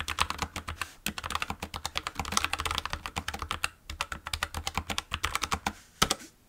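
Fast, steady typing on a low-profile mechanical keyboard, crisp clustered key clicks in quick bursts with a brief pause, close and loud with no talk.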